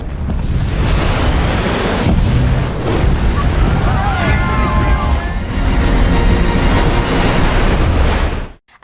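Giant ocean wave crashing in a film scene, a loud continuous roar of surf and spray with wind rushing, ending abruptly.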